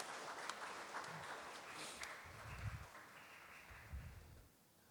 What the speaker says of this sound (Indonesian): Mari Bapak Ibu kita berikan tepuk tangan untuk menyemangati saudara-saudara kita ini